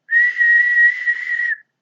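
A person imitates a loud whistle blast by mouth, producing a single sustained, steady, high piercing tone of about one and a half seconds, close and strong.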